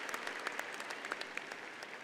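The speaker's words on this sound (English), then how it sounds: "let's give him a round of applause." Audience applause at a community college commencement ceremony, a steady wash of many hands clapping with scattered sharper claps throughout, moderately distant and without talk.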